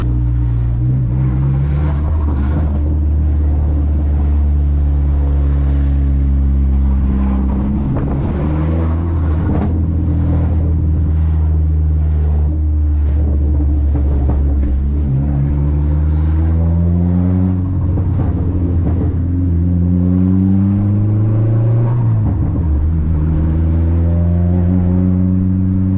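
A Dodge SRT-4 on a cruise drones with a steady low engine note, its pitch rising and falling through repeated gear changes and gentle revving, heard from inside the car with no talk.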